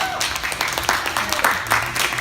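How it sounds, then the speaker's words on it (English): Audience applause at a family gathering, a short, steady round of clapping with scattered louder claps and some voices mixed in. "Frederick Alexander the Hamlin, the second round of applause, please."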